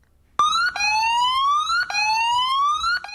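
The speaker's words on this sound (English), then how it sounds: "Tsunami sirens in Padua Bay and Whangarei heads an eerie warning for locals" A loud wailing tsunami warning siren rises steadily in pitch, drops, and climbs again in repeating cycles, starting abruptly after a brief quiet moment, in Whangarei, New Zealand.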